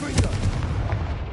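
A Confringo fire spell from the Hogwarts Legacy video game bursts as one short, loud booming blast, close and punchy, fading quickly.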